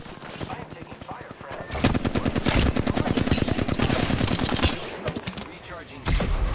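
Automatic gunfire in Apex Legends, long bursts of rapid, evenly spaced shots that build after a quieter opening, stop briefly, then resume, with a voice speaking faintly underneath.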